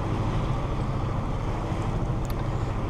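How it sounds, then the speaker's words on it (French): Steady rushing water and wind around a moving boat on a sea crossing from Italy to Corsica, its own wake making the waves, a constant broadband wash with no pauses and no voices. "Les seules vagues, c'est nous qui les faisons."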